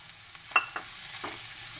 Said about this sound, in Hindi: ऑनियन रिंग्स डाल के फ्राई कर लीजिए।